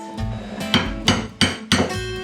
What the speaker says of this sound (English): Here, use the bigger hammer.